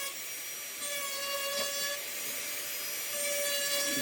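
A high-speed rotary carver fitted with a small diamond flame burr cuts into wood for a carved skull cane, giving a steady, close, continuous high whine with fine grinding grit and no voices.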